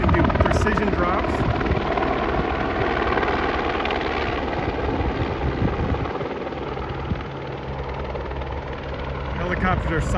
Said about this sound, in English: The smaller helicopters can do precision drops.